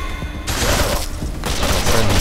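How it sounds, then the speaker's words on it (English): Several enemies in the Wasteland 2 game open fire at once, a dense burst of overlapping gunshots and booms in quick succession, loud and close, with no voice over them. "All of them shoot at once."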